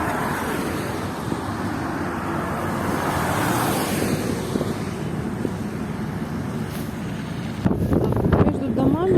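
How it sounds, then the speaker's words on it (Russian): A small snow-clearing vehicle drives past on a windy, icy winter street between buildings in Odesa, a steady engine rumble and strong wind noise filling the scene, with a louder burst near the end. "Едет маленький очиститель."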